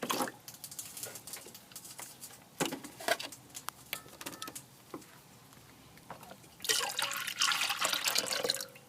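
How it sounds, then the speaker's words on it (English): Milk, three cups' worth, is poured into a pot of potato soup in a camp kitchen: scattered drips and clinks followed by a louder, steady pouring splash near the end, close by. "we've got the 3 cups of milk. Let me go ahead and pour that in here"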